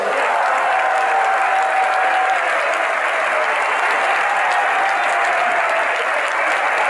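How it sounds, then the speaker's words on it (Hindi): A large congregation claps continuously during a Hindi religious discourse by Acharya Vidya Sagar. The applause forms a thick, loud, unbroken roar of many hands, steady in level from start to finish, with no clear talking over it. "यदि आप लोगों को अच्छा लग रहा है तो ताली बजाइए।"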